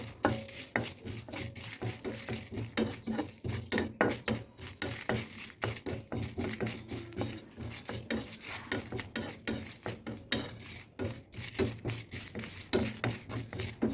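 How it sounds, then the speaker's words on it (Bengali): Spices for an olive pickle frying in a pan, heard as a rhythmic series of close scraping and stirring strokes against the pan over a low sizzle, no talking. "আমি ভেজে নিচ্ছি।"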